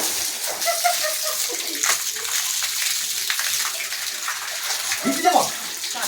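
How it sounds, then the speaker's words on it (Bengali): Water splashes and pours steadily over a car being washed by hand, a continuous close wash of spattering and gushing with a few louder splashes. "গাড়ি ধুয়ে দিচ্ছে দেখেছো?"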